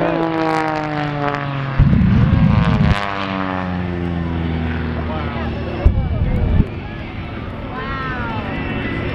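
Two airplanes at an air show fly straight at each other through runway smoke, a loud droning engine roar with two sharp swelling passes, steady throughout; people talk under it.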